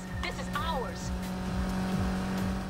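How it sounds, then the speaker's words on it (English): Need for Speed Heat racing car boosting on nitrous, a steady engine roar with brief tire squeal chirps over continuous game music and effects, while a person talks over it. "So there's my nitrous."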